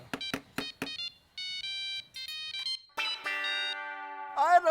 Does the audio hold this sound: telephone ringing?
yes